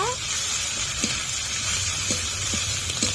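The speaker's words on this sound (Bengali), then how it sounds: "আদা রসুন দিয়ে কিছুক্ষণ নেড়ে নেব" Ginger and garlic paste sizzles steadily in a pan of browned onions for mutton curry, with a few soft knocks as a spoon stirs it.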